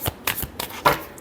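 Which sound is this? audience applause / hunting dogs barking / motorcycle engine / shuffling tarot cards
shuffling tarot cards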